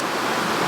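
Rushing autumn waterfall, a dense, even roar of falling water that stays loud and steady over a brief moment, with no voices.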